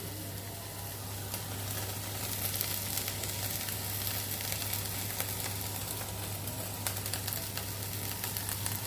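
Okra stir-fry with coconut, turmeric and small kanthari chillies sautés in a pan for Kerala vendakka thoran: an even, moderate sizzle with occasional sharp crackles over a low steady hum.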